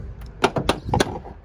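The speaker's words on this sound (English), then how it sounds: "as you can hear when I opened up the door, it's clicking at the moment" The cab door of a 2017 Ford Transit double-cab tipper swings open, its worn door strap giving a short run of sharp clicks and knocks, close and clear, with no talk over it.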